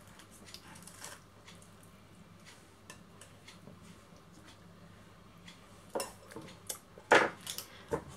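Knife cutting a diabetic pizza into pieces on a board: a quiet room with a few sharp knocks and scrapes of the blade, most of them bunched near the end.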